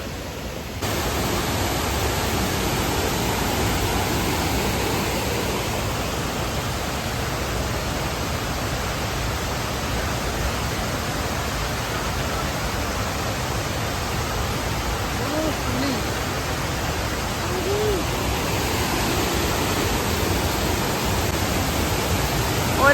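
Urulikund waterfall in Kannur pours with a steady, dense roar of falling water that holds unbroken and fairly loud for over twenty seconds, with no speech.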